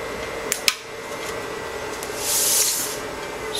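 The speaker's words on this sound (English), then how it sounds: "This is the sound of only 2 of the servers in standby mode." Two Dell servers idling in standby give a steady mid-level fan hum and hiss. Two sharp clicks come early, and a louder airy whoosh swells near the end, with no voices.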